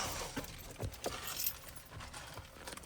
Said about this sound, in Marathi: तर आता गाडी करूया लॉक आणि आपण जाऊया